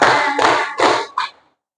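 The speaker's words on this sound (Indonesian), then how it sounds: "Tepuk tiga." A classroom group claps in unison three times, each broad, loud burst of hands close by, the last one shorter and lighter, with no talking.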